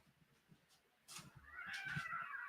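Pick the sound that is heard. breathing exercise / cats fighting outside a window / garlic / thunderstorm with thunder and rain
cats fighting outside a window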